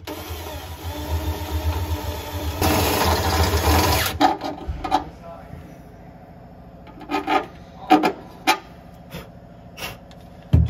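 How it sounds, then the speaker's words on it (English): A drill bores a hole through the car body of an S13 240SX for a brake line bulkhead. A steady, buzzing motor whine runs for about four seconds and then stops, followed by scattered clanks and taps. "we just gotta drill it big enough for the bulkhead to go through"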